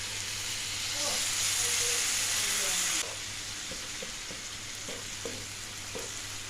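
Water poured onto cumin and other spices frying in a pan for masala bhindi, a loud steamy hiss that surges and then settles into a softer ongoing sizzle with a few scraping stirs.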